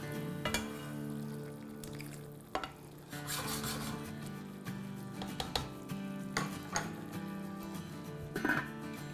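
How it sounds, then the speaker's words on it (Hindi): Kabab karahi with ginger sizzling and frying in a pan, a steady low sizzle broken by occasional spoon stirs and scrapes against the metal, moderately faint with no talking. "तो अभी हम दो मिनट इसे और पकाएंगे अदरक डाल के।"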